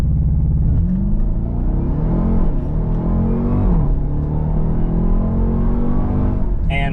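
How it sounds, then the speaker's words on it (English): A 710 hp supercharged Dodge Durango SRT Hellcat launches hard from a standstill in launch mode at high altitude, its engine roaring loud and close as it climbs through the gears, with brief dips at each shift. "0 to 60 in the Durango. Of course, we're in launch mode."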